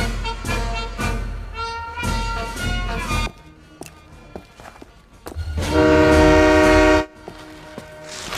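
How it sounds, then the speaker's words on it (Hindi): Train scene from an action movie: a passing train with loud horn blasts, repeated heavy rhythmic bursts early, then a sustained loud horn swelling near the end, no speech. "गोल्ड ट्रेन निकल चुकी है।"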